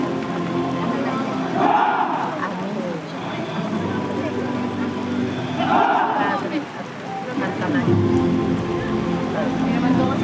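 Rain falling steadily on a surface, a continuous hiss and patter that swells and eases in waves, with people talking and calling out over it.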